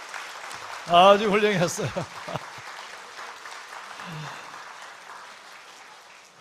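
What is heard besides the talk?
congregation applauding children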